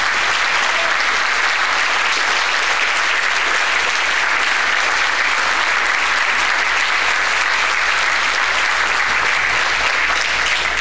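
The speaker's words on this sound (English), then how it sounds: "let's give a big round of applause to everyone who has ever helped our" A large crowd claps steadily and loudly for about ten seconds, a dense continuous wash of applause with no pauses.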